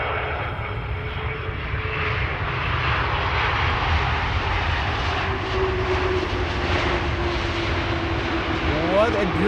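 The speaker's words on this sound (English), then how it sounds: "This is KLM flight 775 and it is arriving from Port of Spain." A KLM passenger jet arriving from Port of Spain lands at Amsterdam Schiphol Airport, its engines giving a loud, steady roar that holds throughout with a faint voice in the background.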